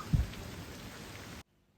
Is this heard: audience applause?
no